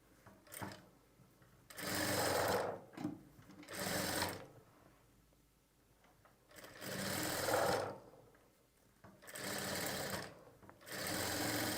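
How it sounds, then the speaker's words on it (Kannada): A sewing machine stitches a pointed stitch along fabric, running in three long loud bursts separated by quiet pauses, close by with no voices. "ಈ ರೀತಿ ಪಾಯಿಂಟೆಡ್ ಹೊಲಿಗೆನ ಹಾಕ್ಕೊಳ್ಳಿ"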